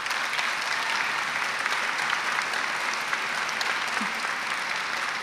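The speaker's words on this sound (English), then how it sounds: "Let's give them a round of applause." Audience at a college commencement ceremony applauding, a steady, even wash of many hands clapping throughout, heard from within the crowd with no speech over it.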